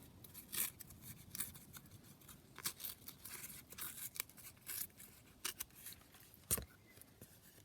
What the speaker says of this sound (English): So just tear down here. Like this.